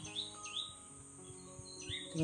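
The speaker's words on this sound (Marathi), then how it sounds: "पक्षी पक्षी पक्ष्यांचा आवाज आला ना" Birds chirp outdoors near a house in the morning, a few thin sweeping calls spread over a quiet background with a faint steady hum.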